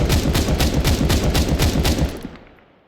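Auto sniper rifle on the T side in Counter-Strike 2 firing a rapid, evenly spaced string of loud close shots for about two seconds, then a short ringing decay into silence.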